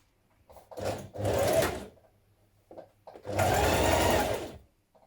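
A home sewing machine stitches the shoulder seams of a McCall's 7518 onesie, running in two close bursts, a short one and then a longer steady whir, with quiet pauses between.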